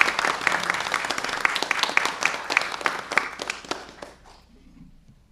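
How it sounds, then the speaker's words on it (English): An audience at an American Indian Heritage Commission meeting claps in a steady round of applause that is moderately loud, then tapers off and stops after about four seconds. "Let's give them a round of applause for being here."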